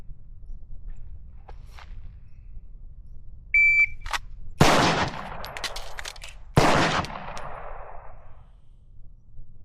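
A sharp electronic timer beep is followed by two loud, close gunshots about two seconds apart during a timed magazine reload drill on a shooting range, with faint handling noises between and after.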